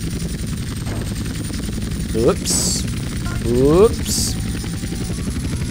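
A helicopter in GTA San Andreas, during a Las Venturas airport race, drones steadily at close range throughout, with brief mechanical whooshing sweeps midway and a short spoken exclamation over it.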